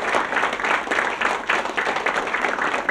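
An audience at a televised show breaks into sustained applause, dense clapping that stays loud and even throughout with no talk over it.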